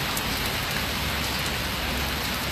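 Steady rain pours down in an even, dense hiss of drops striking surfaces, close and constant throughout with no voices.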